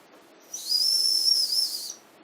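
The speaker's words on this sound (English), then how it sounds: "We have, as I said, a little solid silver whistle." A small solid silver whistle gives one thin, high, breathy blast lasting just over a second, close and fairly quiet, with silence before and after.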